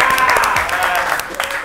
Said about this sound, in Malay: Tepukan untuk Asboy.